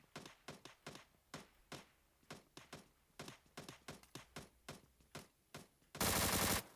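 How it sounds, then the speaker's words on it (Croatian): Gunfire in PUBG Mobile: a string of sharp, evenly spaced single shots, some in quick pairs, fairly faint, followed by a sudden loud sustained blast of noise at the end. "Već se pucaju ovdje."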